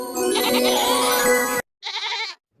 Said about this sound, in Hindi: अरे, यह तो बकरी के चिल्लाने की आवाज है